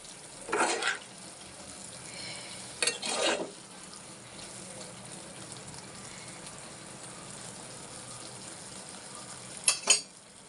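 Brinjal and raw banana curry is stirred in a pan over low sizzling, with a few short scraping bursts of the spoon against the pan, separated by quiet stretches, and no talking.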